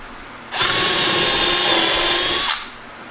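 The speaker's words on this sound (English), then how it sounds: "I'm just gonna drill pilot holes" A power drill drilling pilot holes in wood blocks spins up and whines steadily for about two seconds, then stops, loud and close against a quiet background.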